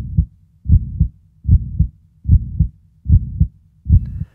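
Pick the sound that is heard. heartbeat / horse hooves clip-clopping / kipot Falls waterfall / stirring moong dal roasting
heartbeat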